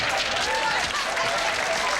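A television talk-show studio audience applauds, a dense, continuous wash of clapping over the whole stretch, with some speech blended in.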